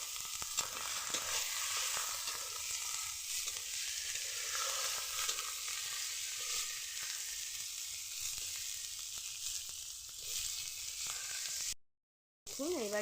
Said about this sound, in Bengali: এবারে হালকা করে একটু ভেজে নেব।